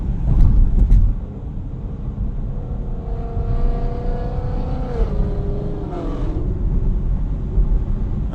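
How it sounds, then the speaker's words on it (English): A loud Ford Mustang GT engine roars past in a tunnel, a deep rumbling drone with rising and falling tones as it passes close by, echoing off the walls and staying heavy throughout. "No, it's just a GT, it's a Mustang."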